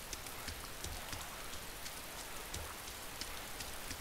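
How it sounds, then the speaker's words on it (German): Steady rain in the game DayZ patters softly and continuously, a low, even wash of drops with no voices. "Jetzt regnet es."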